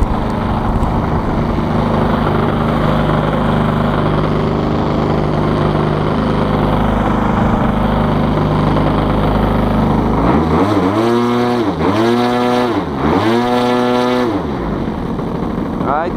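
An Extreme Flight 74-inch Laser RC plane with a DA35 gas engine runs loud and close, first a steady idle drone, then repeated throttle sweeps rising and falling in pitch as the engine revs up and back down.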